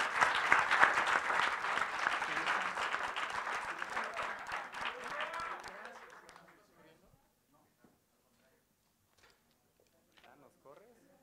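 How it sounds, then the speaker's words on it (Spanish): An audience at a university exhibition debate applauds both teams, dense clapping for about six seconds before it thins out and fades, leaving near silence with a few faint sounds. "Les pido nuevamente un fuerte aplauso para ambos equipos."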